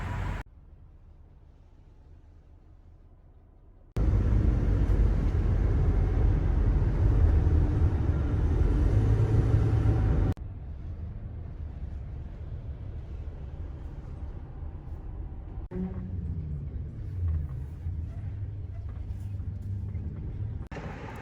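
A moving truck driving on the road, heard from inside as a continuous low engine and road rumble that steps louder for several seconds before settling back to a steady drone.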